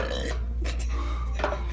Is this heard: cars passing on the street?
no